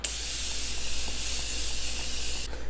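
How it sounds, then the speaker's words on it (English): Morphe makeup setting spray hissing from its nozzle in one continuous, close, bright spray that lasts a couple of seconds before cutting off abruptly. "now I'm taking this Morphe spray and spraying this."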